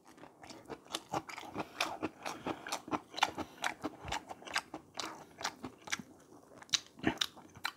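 Close, crisp chewing and biting of Ottogi Jjashulaeng instant black bean noodles, with repeated crunchy bites and wet mastication in an irregular rhythm, loud and near with no talk.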